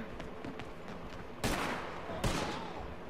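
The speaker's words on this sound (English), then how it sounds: "I'm getting shot at by police" Police gunfire rattles in bursts in Red Dead Redemption 2, two sharp volleys of shots cracking out fairly close after a stretch of quieter background noise.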